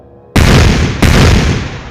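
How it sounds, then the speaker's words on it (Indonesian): Two sudden explosive blasts, the second coming right behind the first, each bursting out of silence into a long roaring rumble that slowly fades. "Sebuah ledakan terdengar di kejauhan."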